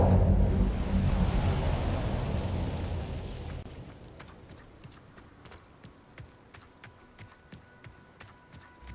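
An Incendio fire spell in Hogwarts Legacy erupts as a loud, dense roaring whoosh that fades over about three seconds into a quieter stretch of light, regular tapping footsteps.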